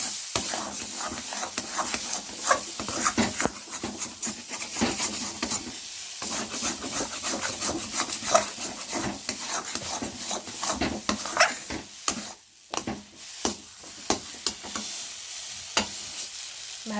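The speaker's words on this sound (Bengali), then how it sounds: "ভালো করে নাড়ানাড়ি করে নিয়েছি আমি।" Prawn paste with taro leaves, milk and red chillies being stirred in a pan, a steady scraping and sizzling that runs on close and continuous, with brief pauses near the end.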